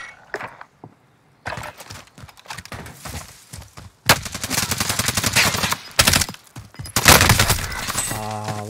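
Warzone gunfire in a battle royale match, bursts of rapid shots and sharp cracks breaking out after a quiet start, growing dense and loud toward the end, with a player talking over part of it.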